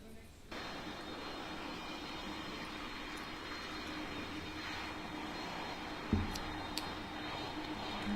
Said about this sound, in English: let's have a look at the Delta 767